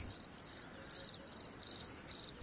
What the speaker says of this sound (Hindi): झींगुरों की लयबद्ध आवाजें सन्नाटे को तोड़ रही थीं